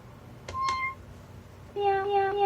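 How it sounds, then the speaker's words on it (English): Synthesized meow notes from a Meowsic toy keyboard: two short cat-like tones, a pause, then a longer sustained meow, close and clear over a faint background hum. "meow sound"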